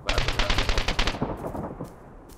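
Rapid bursts of automatic gunfire from the zombie shooter game Dead Raid, a loud, close rhythmic volley for about a second, then scattered fainter shots as it trails off.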